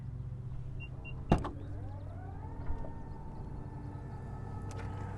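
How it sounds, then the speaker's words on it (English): A power tailgate on a 2022 Mitsubishi Outlander whirs open with a steady electric motor hum after a sharp click, running alone without talk. "you will have a hands-free power tailgate"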